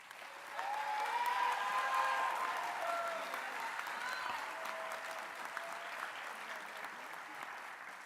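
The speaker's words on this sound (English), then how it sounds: "if you could hold your applause" Steady applause from a large audience at a high school senior awards night, rising quickly and then continuing evenly at moderate volume for several seconds.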